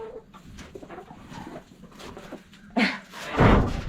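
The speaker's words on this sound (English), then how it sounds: "Oh, the girls are loving it." Backyard hens cluck and murmur softly around a fresh pile of woodchips, with scattered low calls that rise into a louder burst near the end, close by and with no talking.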